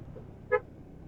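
A single short car horn toot is given as a greeting to friends on the road toward the sea at Barangay Sisiman; the beep is brief and near, over quiet background noise.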